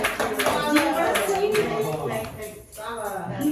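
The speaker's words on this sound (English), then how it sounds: "more applause" A gallery audience at an art unveiling claps briefly, a short burst of moderate hand clapping mixed with voices and room chatter.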